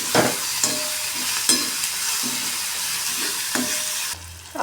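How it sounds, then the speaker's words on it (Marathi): Sliced onion sizzles in a hot pan with green chilli and garlic paste for street-style egg bhurji, with a steady fry hiss broken by repeated scraping stirs of a spatula. "कांदाही परतून घ्यायचा आहे आपल्याला."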